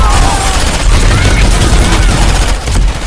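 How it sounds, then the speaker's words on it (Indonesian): A loud, dense burst of rapid gunfire crackles continuously for a few seconds, harsh and close. "Mendengar suara tembakan"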